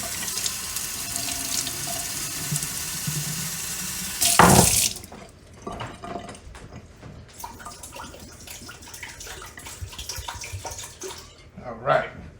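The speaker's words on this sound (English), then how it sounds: "I'm gonna add a little water with it." Tap water runs into a pressure cooker in a home kitchen, a steady loud hissing rush for about four seconds that cuts off abruptly, followed by quieter clatter and handling sounds.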